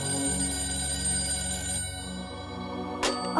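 Telephone ringing on the line during a call home, a steady electronic ring tone with a faint background hum, heard alone with no talking.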